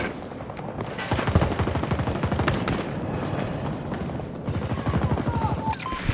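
AC9 submachine gun fire in Battlefield 2042, rapid automatic bursts crackling close by, a short burst then longer sustained strings of shots over battlefield noise and distant explosions.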